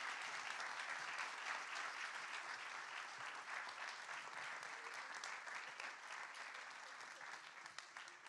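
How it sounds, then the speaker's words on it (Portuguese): Applause from a live comedy festival audience, a dense, sustained wash of many hands clapping that carries on evenly and fades slightly toward the end. "Um aplauso para estas 2 pessoas."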